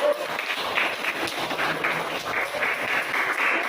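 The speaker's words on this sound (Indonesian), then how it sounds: "kasih dulu aplaus kepada kelompok satu" A classroom group claps after finishing their presentation, steady scattered applause from many hands that keeps going at an even level throughout, with a little voice mixed in underneath.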